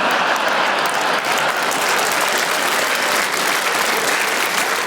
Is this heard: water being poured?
no